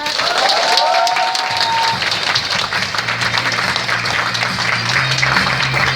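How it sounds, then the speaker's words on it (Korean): Steady applause from an audience fills the whole stretch, dense and loud, with crowd murmur mixed in. "다시 한번 뜨거운 박수 부탁드립니다"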